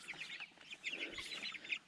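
A flock of chicks in a chicken tractor keeps up rapid, high chirps and cheeps, many birds at once, close and fairly soft, with no talking.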